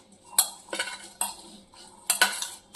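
A spoon clinks and scrapes in a bowl while mixing chillies with a little cold oil for pickled chillies, giving several sharp, close metallic taps in an uneven rhythm.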